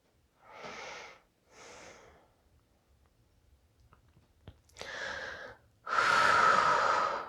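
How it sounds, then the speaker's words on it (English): Slow, deep breaths taken while doing yoga in bed: two soft inhale-exhale bursts, a quiet pause with faint clicks, then a louder breath and a strong, long exhale close by. "Try to take a few deep breaths here."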